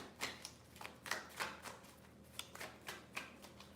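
Tarot cards are shuffled in a quick series of soft riffling bursts, close and quiet, with no talking.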